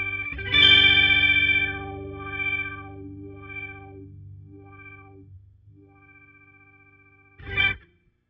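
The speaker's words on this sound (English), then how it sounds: "you can start playing with the filter with the Flutter on" Guitar played through a Walrus Audio Luminary quad octave generator pedal with its filter and Flutter modulation engaged: swelling, wavering chords layered with octave tones that fade slowly, then one short strum at the end.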